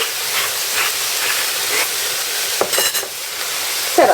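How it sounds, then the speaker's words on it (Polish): Beef for a quick stroganoff-style goulash with mushrooms frying in a pan, giving a steady broadband sizzle with brief crackles and a few stirring clatters near the end, no talking. "I już się kończy smażyć."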